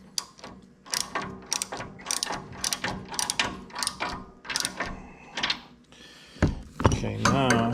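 Socket ratchet wrench clicking in quick repeated bursts while turning a bolt during setup of a Woodmizer BMS 250 sawmill, close and crisp, with a brief mechanical scrape near the end.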